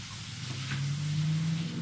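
Steady whirring hum of an air fryer running nearby, a constant low drone with a faint rising tone and broadband fan noise.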